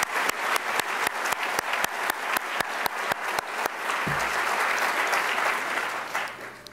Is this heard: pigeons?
no